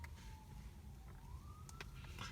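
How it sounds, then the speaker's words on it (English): A distant emergency siren in Los Angeles wails faintly, its pitch sliding up and down over a low steady background rumble. "See, here goes another siren."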